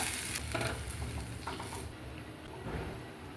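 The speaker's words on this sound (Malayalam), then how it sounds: "തിളച്ച് വന്നിട്ട് ഈ സമയത്ത് നമ്മൾ അരച്ച് വെച്ചത് ഇതിലേക്ക് അങ്ങോട്ട് ഇട്ട് കൊടുക്കുക" Ground paste is tipped into a pot of boiling liquid on the stove, giving a continuous bubbling, sizzling hiss with a few soft plops and spatters, fairly close.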